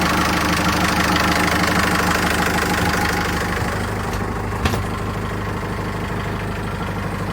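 A new Yanmar diesel boat engine idles steadily inside its engine box, a close, continuous low knocking chug with a constant, even rhythm and no talk over it.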